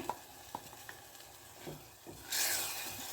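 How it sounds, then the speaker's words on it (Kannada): Ground raw toor dal paste goes into softened tomatoes frying in oil, with a gentle stir and a few soft clicks before a sudden loud sizzle rises near the end. "ಇದಕ್ಕೀಗ ನಾನು ರುಬ್ಬಿಟ್ಕೊಂಡಿರೋ ಬೇಳೆಯ ಪೇಸ್ಟನ್ನು ಹಾಕ್ತಾ ಇದ್ದೀನಿ"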